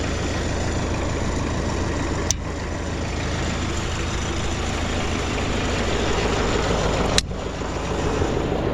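A tractor engine runs at a steady, loud idle-like drone while raking hay, a continuous low rumble with two brief sharp clicks partway through.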